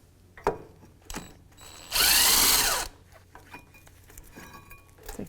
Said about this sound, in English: Now I'll use my electric tool to speed up that process.